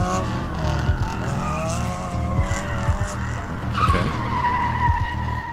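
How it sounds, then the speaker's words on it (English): Tires screech and skid during a car chase in a narrative video game, loud squeals sweeping up and down over a constant engine and game soundtrack, with repeated bursts throughout. "Some car screeching noises."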